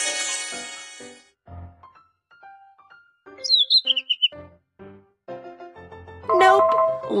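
A quick series of high, bright bird chirps rises above soft game blips and tones in the mobile game Baby School Bus, close and clear, followed by a brief busy burst of sound.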